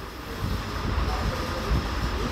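A metro train rumbles into a station, a steady low rolling roar with a faint hum of the surrounding platform, heard from close by without clear speech.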